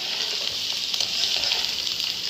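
Chicken dry roast sizzling in a pan as coriander is stirred and mixed in, a steady close frying hiss with faint scraping under it.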